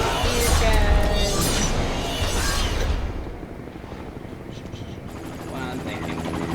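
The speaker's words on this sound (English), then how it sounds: "Helicopter." A helicopter flying in the video game The Secret World, a loud rumbling rotor thrum that fades after a few seconds and is mixed with other game noise, with a voice talking over it.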